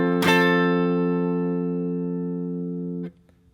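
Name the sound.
guitar chord strummed twice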